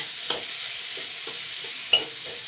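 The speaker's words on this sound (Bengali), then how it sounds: "2 মিনিট নাড়াচাড়া করব।" Four peeled boiled potatoes frying in hot oil in a wok, stirred with a spatula: a soft continuous sizzle punctuated by three or four scraping strokes, close up and without talk.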